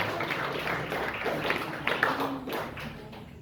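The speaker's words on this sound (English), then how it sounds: "A round of applause, please, for that." Audience applause at a live festival conversation event, a sustained patter of clapping from a crowd that swells slightly midway and fades toward the end, heard alone without talk.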